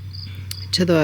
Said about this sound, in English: So here are all the frogs and the crickets